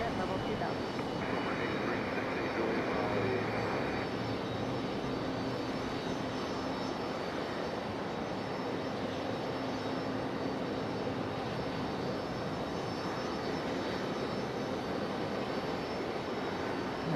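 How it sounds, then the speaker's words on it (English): A Breeze Airways jet landing on runway 5 right at Raleigh-Durham International, heard as a steady, loud engine roar that holds for the whole stretch. "Another Breeze Airways landing 5 right."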